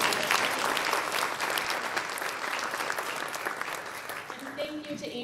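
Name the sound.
audience applause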